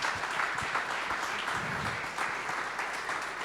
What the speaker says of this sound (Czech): si zaslúžia za toto potlesk hneď takto z rána